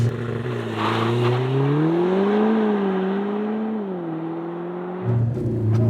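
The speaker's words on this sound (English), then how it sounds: "It'll come up with launch, let go of the brake, and then away we go." Lotus Emira turbo, rear-wheel drive, launching under launch control, its engine note climbing hard and loud through the revs, then a sharp drop and a fresh climb at a gear change near the end.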